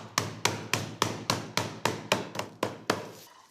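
Digestive biscuits being crushed inside a strong plastic bag give a run of about eleven sharp, evenly spaced thuds, each dying away quickly. The blows are close and fairly loud, with no voices.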